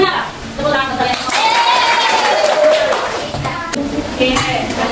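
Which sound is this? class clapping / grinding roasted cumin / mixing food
class clapping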